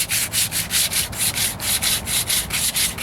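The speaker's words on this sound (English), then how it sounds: "I'm finishing up, I'm now going into the finish sanding." Close, steady hand sanding with 220-grit paper on the driver's side wheel arch of a 1998 Ford Ranger, about a dozen even back-and-forth strokes in a regular rhythm with no voices.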